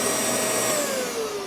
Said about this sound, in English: It has plenty of power to run the Festool vac